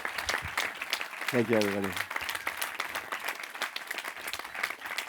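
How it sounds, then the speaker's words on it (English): Applause from a festival audience claps steadily throughout, with someone briefly speaking over it near the start. "give a round of applause for Constantin"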